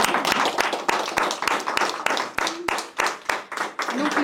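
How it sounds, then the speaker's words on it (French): Audience at a French game show applauding the two winners, a brisk run of close, sharp hand claps at a steady pace for a few seconds. "on peut les applaudir"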